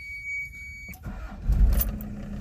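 A Toyota Town Ace 4x4 turbo diesel van with a 5-speed manual cranks after a glow-plug beep and fires up, the starter whirring briefly before the engine catches into a close, low rumble.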